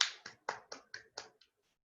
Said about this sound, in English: So Nishant deserves a big round of applause.